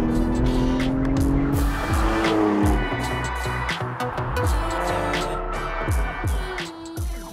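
Porsche 718 Spyder engine revs and shifts through gears, rising and falling in pitch, with tyre noise and squeal on the road, loud and close throughout.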